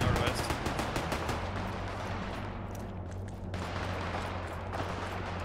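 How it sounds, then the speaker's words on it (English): Sporadic gunfire in a World War II war video game, a rapid burst of shots at the start followed by scattered distant cracks over steady background noise, with faint voices. "I'm hearing sporadic gunfire to the northwest"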